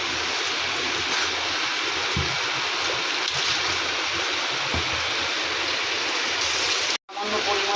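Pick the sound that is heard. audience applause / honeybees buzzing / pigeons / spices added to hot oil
spices added to hot oil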